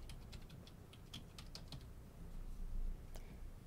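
Rapid keystrokes on a computer keyboard as a password is entered, a quick run of light clicks and taps close up with a slightly busier burst near the end, no voices.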